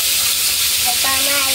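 Tomatoes sauté in a pan for a chorizo and dried-fish dish, a steady close sizzle running all the way through, with a brief whistling tone near the end.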